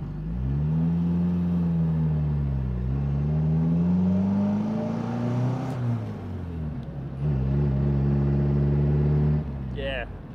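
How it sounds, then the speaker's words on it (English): A 1957 Triumph TR3A sports car drives close by, its engine droning steadily and rising in pitch as it accelerates, briefly easing off around the middle before pulling hard again; talk occurs alongside the engine. "we're in the 1957 Triumph TR3. We're gonna take this thing around the building."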